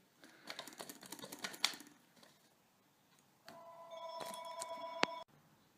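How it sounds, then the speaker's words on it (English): A telephone rings in a room once, a bright electronic trill lasting about two seconds, after a burst of clicking and clattering handling noise. "I didn't answer that phone."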